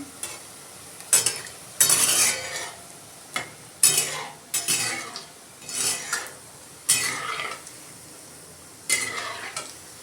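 Spinach bhaji fritters fry in hot oil over medium heat, with bursts of stirring and utensil scraping over a soft background sizzle and no talking.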